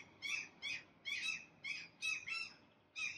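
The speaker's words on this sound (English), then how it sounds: "there are a lot of seagulls flying around" Seagulls call outdoors on a warm day, with a series of about seven sharp, repeated cries at an even rhythm over faint background ambience.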